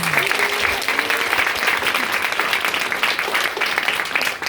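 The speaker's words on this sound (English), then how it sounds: "So give them a big round of applause." Audience applause for the staff at a motivational talk, a dense, steady wash of clapping filling the room at close range throughout.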